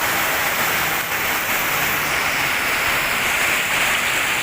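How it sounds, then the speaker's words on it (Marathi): Heavy monsoon downpour in Kerala, a constant thick wash of rainfall close by and unbroken from start to finish. "किती मोठा पाऊस आहे बघा"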